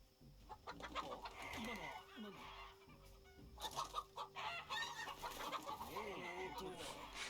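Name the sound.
chickens clucking in the video game Shadow Tactics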